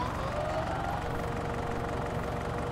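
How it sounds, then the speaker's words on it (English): A mowing tractor runs in the Farming Simulator 19 video game, a continuous, even engine drone with a low throb and a faint rising whine early on, heard alone at steady loudness. "This tractor does go too well on that hill"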